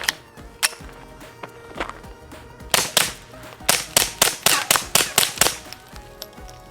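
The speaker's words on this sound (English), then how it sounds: "then simply rack the slide like so" Sharp metallic clacks of a Taurus TX22 Compact pistol's slide being racked, a few scattered snaps followed by a quick run of about a dozen crisp, evenly spaced clicks, close and loud.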